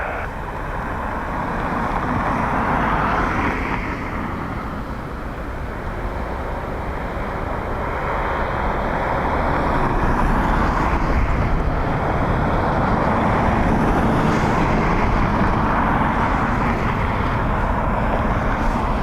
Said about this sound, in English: So, on final, we heard Aegean in from Athens.